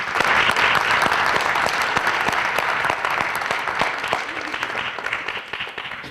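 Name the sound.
applause for students at signing day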